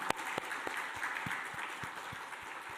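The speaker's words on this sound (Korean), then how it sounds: "하나님께 영광의 박수" A church congregation clapping together, steady broad applause with a few distinct claps standing out, heard alone at moderate level.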